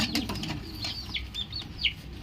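A pigeon beats its wings in a flurry of rapid flaps while being caught by hand, close and fairly loud, with a few short chirps mixed in, among roller and girebaz breeding pairs in a loft.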